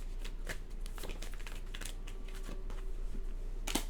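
Tarot cards being shuffled, a quick papery riffle and flutter with scattered sharp snaps and a louder burst near the end, steady and close with no voices.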